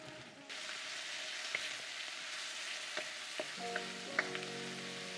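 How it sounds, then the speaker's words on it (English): Onions with salt sizzle in a pan for a chicken balti, a close, steady frying crackle that starts abruptly, with a few soft stirring clicks scattered over it. "Okay, so we've been cooking the onions for a minute or two."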